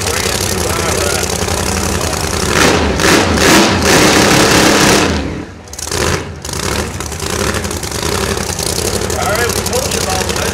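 Legend racing hot rod with a Legend bullet engine roaring loudly and steadily, close by, with a brief dip around the middle before the roar resumes.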